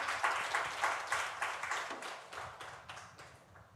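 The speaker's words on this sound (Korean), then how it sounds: "우리 하나님께 영광의 박수 올려드리겠습니다" Church congregation clapping together at an evening worship service, a rhythmic, unison beat of roughly two claps per second that gradually fades, fairly quiet and without talk.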